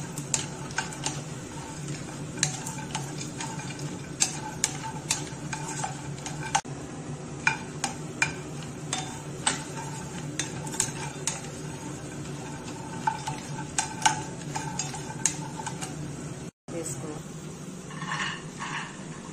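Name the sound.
almonds and coconut being fried and stirred on low flame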